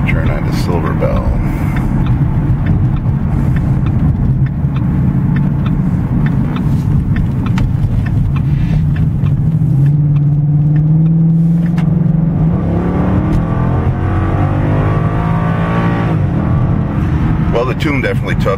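A tuned Ford car engine with a Stage 1 performance tune revs hard and climbs past its redline, a loud, steady, close roar rising in pitch, with someone talking over parts of it.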